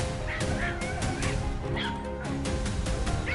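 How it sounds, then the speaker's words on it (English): Dogs bark in the woods in several sharp, echoing bursts. The barking mixes with honking, goose-like calls and rustling clatter, loud and close. "The sound of barking echoed from deep within the woods, signaling that the target had been spotted."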